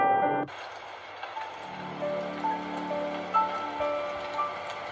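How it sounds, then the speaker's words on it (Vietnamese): Steady rain falls outside in the 2D horror game Slendrina 2D, a soft continuous patter with scattered droplet ticks and faint game tones, no voices. "Ok, ngoài trời đang mưa."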